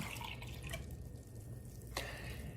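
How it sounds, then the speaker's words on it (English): A liquid medication mixture is poured out in a quiet, close trickle with small drips and a brief splash near the end, no speech heard. "So I'm gonna pour it out."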